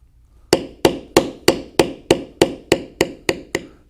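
A mallet strikes a small figure beveler into leather being carved, giving eleven sharp, evenly spaced taps about a third of a second apart, close and crisp with nothing else heard.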